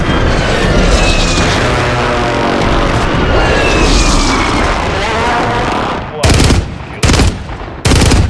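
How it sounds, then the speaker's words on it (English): An airstrike in Call of Duty Warzone brings rolling gunfire and heavy booming blasts that carry on for several seconds. Then three sharp, loud explosions or bursts come in quick succession, with game voice chatter mixed in. "Requesting close air!"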